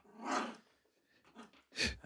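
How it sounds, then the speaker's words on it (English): A dog makes a big noise while chewing on a chew, with gruff dog-like growls and bursts, three louder swells separated by quieter gaps, close by. "That is the pod dog who was making a big noise chewing on a chew"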